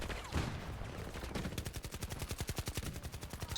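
Automatic gunfire from Battlefield 2042 rattles in a fast, even burst of many shots, preceded by scattered distant shots and softer background noise.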